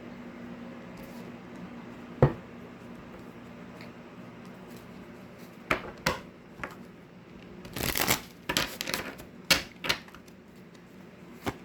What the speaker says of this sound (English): Let's go ahead and pull some tarot cards.